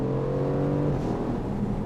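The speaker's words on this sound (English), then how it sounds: "The exhaust note on this thing. It's mind-blowingly good." A deep, steady V8 exhaust rumble from an Aston Martin Vantage Roadster, with a throaty drone, close and loud, holding fairly constant with no speech.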